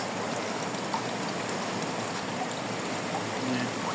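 Water flowing steadily into a ditch, a continuous close rushing and trickling wash that holds an even level throughout with no break.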